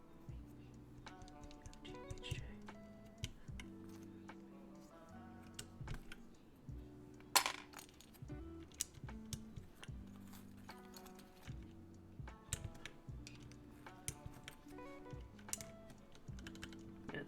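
A mechanical keyboard with Alpaca switches and loose keycaps is typed on in quick, uneven bursts of clacky keystrokes. It is close and fairly quiet, with one sharper clack partway through.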